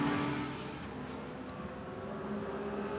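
A Mercedes GT race car at a Blancpain GT Sports Club race in Barcelona drones loudly and steadily in a sustained engine roar, slightly louder at the start, with no voices.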